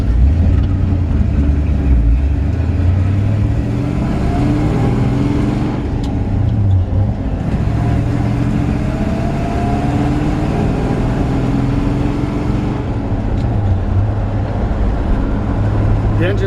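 A 1947 Ford half-ton truck with a 302 V8 and three-speed manual runs steadily at close range, a continuous low engine rumble with slight rises in revs throughout, under some talk.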